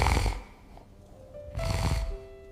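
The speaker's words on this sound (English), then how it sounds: "When the snores grew deep and thunderous" Deep, thunderous snoring from a giant in an animated Jack and the Beanstalk fairy tale, two long rumbling snores separated by a quieter breath, with faint musical tones underneath.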